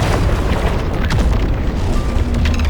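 A massive energy beam slamming into the ground in a fantasy video game, a loud, deep booming blast with rumbling, tremor-like texture that carries on through the whole stretch.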